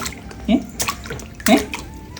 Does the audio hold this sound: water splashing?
yes